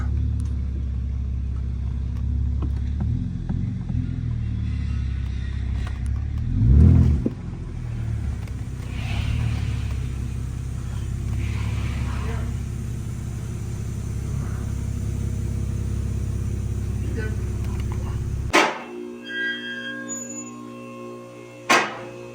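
A BMW E90 sedan idles and rolls slowly into a shop with a low, steady engine rumble and a brief throttle blip, then the engine shuts off, leaving a quieter room with faint tones.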